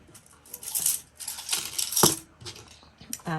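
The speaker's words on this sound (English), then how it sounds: "Paper clipped it." Small metallic clicks and light rattling of a paper clip being slid onto paper, close and quiet, with a brief voice at the end.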